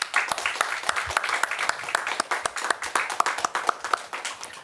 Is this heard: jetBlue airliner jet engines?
no